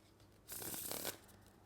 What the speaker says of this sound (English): So now when the cards get shuffled